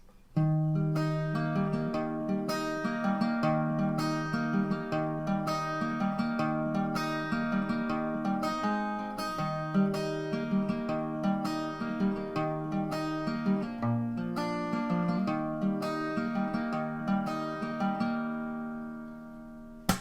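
An acoustic guitar plays a strummed chord progression at a steady rhythm, solo and close, for a sustained instrumental intro to a song, with no voices.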